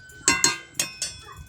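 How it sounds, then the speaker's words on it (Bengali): A metal lid set onto a pot of curry rings out in four quick metallic clinks and clanks, close and bright, each fading fast, followed by a softer rattle. "তরকারি ফোটা অনুসারে আমি একটা ঢাকনা দিয়ে ঢাকিয়ে দিলাম"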